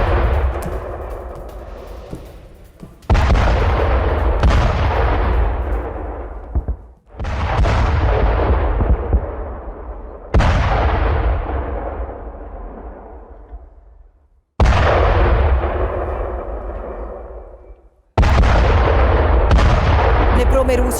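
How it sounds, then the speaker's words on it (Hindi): A Russian attack on Ukrainian positions with GUB-62 bombs and MiG-29 aircraft: a series of about six loud, heavy booms at irregular intervals, each sharp onset followed by a long rumbling decay, heard alone without talking. "यूक्रेनी सैन्य पोजीशंस पर GUB-62 बॉम्ब से हमला हुआ है और MiG-29 से यूक्रेनी सैन्य ठिकानों पर अटैक।"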